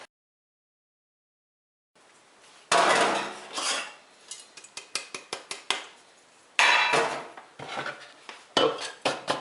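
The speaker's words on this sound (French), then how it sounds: "Le petit bout qui reste, je vais le couper" A leftover chunk of Marseille soap being cut on a hard surface after a short silence, giving a series of sharp knocks and scraping clacks, close and loud, in irregular bursts with brief pauses between.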